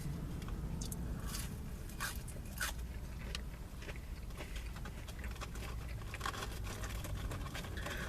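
Dairy Queen french fries being eaten close up, with repeated crunchy bites and chewing against a steady background hum and no talking.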